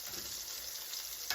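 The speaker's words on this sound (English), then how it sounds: "now we're gonna fry our meatballs. Sizzling up nicely" Gyro-style meatballs fry in a hot pan over medium-high heat, giving off a continuous, even sizzle at moderate volume, with no voices over it.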